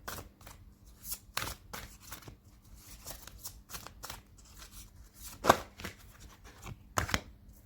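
Tarot cards being shuffled and drawn from a deck of ascension cards, heard as a series of soft, close card flicks and slides with irregular rhythm and a couple of sharper snaps, no talking.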